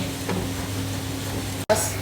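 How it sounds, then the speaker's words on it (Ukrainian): Butter melting in a frying pan for semolina fritters, giving a steady soft sizzle up close with a brief clatter near the end; no talking. "Масло це мусить розтопити."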